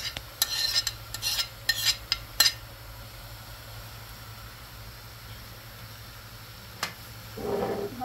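Tomato and a spoonful of tomato paste being stirred into an Iranian spinach stew, with a quick burst of spoon scrapes and clinks against the pot at the start, then a low simmering hiss and a soft stir near the end.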